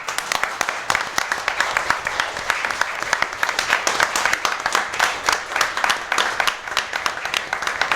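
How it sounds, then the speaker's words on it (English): Audience applause at a city council meeting for a newly introduced fire chief, a steady patter of many hands clapping, moderately loud and even throughout, with a few murmuring voices underneath. "Let's give him a round of applause."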